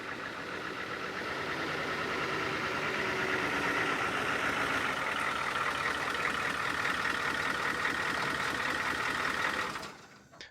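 A 1994 Ford F250 four-wheel drive pickup with a 7.3 turbo diesel engine idles steadily with a loud, close rattling clatter that holds even for about ten seconds, then cuts away.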